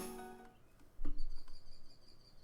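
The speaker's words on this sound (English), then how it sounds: "I can hear cicadas off in the distance." Distant cicadas buzz in a steady high drone through a quiet twilight scene in the Air visual novel, with faint soft clicks and ambient hiss underneath.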